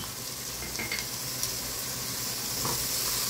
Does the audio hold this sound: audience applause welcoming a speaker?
no